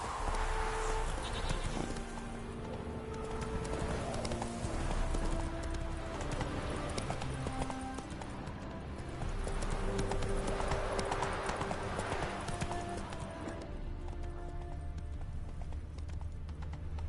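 A heavily laden horse walks in The Witcher 3 video game, its hooves clip-clopping in a steady rhythm over a constant outdoor ambience, with soft animal bleats in the background.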